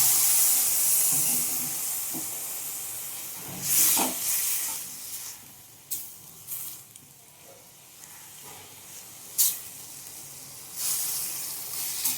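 A little water poured into a hot pan of lentil dumplings sends up hissing steam and sizzle, with several sharp bursts of sizzling spread across a quieter background.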